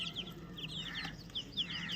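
Country chicken chicks, raised without their mother, peep faintly in short, high, repeated chirps over a quiet background.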